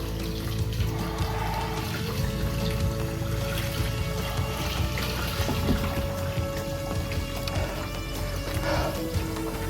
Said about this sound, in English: And we're just rinsing that out real quick.